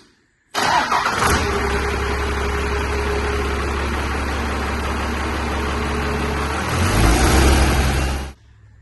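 A Cummins diesel engine in a crew cab pickup truck, with a fuel leak, starts and runs with a loud, steady low rumble and some popping, close by, for several seconds before shutting off.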